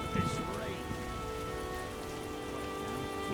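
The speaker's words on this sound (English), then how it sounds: "rain." Rain patters steadily on surfaces in The Witcher video game, a soft, even hiss of falling drops with faint tonal game sound beneath.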